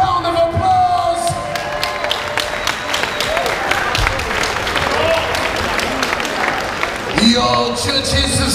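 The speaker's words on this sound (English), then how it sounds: "Please give them both a round of applause." A boxing crowd bursts into applause and cheering after a fight, dense clapping with whoops and shouts sustained throughout, while an announcer's voice carries over the noise.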